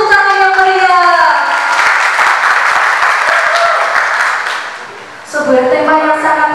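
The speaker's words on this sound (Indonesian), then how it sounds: "Beri tepuk tangan yang meriah" Audience applause at a university public lecture swells between stretches of an amplified voice, a loud continuous wash of clapping that dips briefly before the speaker resumes over it.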